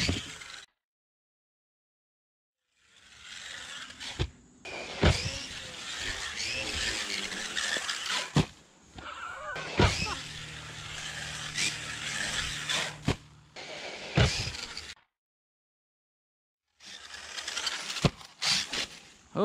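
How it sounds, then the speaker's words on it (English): A Traxxas Sledge RC monster truck with a failing differential and M2C driveshafts runs in loud bursts: harsh motor whine and scrabbling tire noise broken by short silent gaps and sharp impacts. "it sounds like I got a diff going out"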